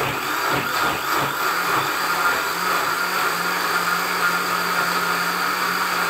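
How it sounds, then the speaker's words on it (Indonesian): A blender whirs steadily for several seconds as it blends leaves, a loud continuous motor drone with a rough, churning texture and no voices. "ini harus di blender sampai halus ya, halus dan campur rata teman-teman"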